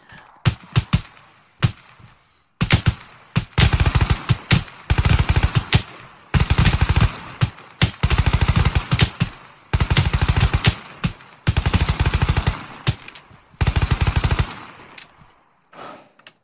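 Intense automatic gunfire in the military shooter game ArmA, loud close bursts of rapid shots in repeated volleys with brief pauses, fading toward the end, with no talking.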